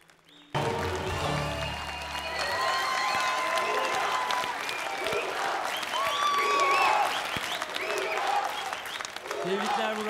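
A studio audience applauds after a Turkish song performance in the Hicaz makam on a televised singing contest, steady loud clapping sustained for about ten seconds after a brief sung ending, with faint voices beneath.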